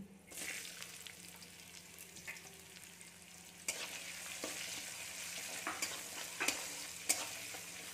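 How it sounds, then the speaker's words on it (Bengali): Chopped onion frying in a pan for lemon rice, a soft continuous sizzle with intermittent stirring scrapes, quiet and close, no voices. "পেঁয়াজটা একটু হালকা করে ভেজে নেব।"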